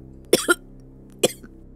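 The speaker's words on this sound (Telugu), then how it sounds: "నీకు సడన్ గా ఎందుకు ఇంత దగ్గు వస్తుంది?" A person coughs sharply twice in quick succession, then once more after a brief pause, close and dry in an otherwise quiet indoor room.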